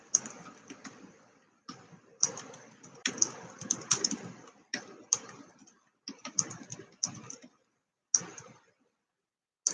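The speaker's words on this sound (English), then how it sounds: "I forgot to type in welcome chat" Quick bursts of clicky keystrokes on a computer keyboard, coming in uneven clusters separated by short pauses, fairly close and moderately quiet.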